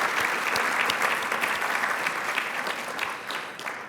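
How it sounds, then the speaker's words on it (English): An audience at a charity breakfast event applauds its sponsors, a dense, steady wash of many hands clapping that carries on throughout and thins a little toward the end. "If we could applaud them,"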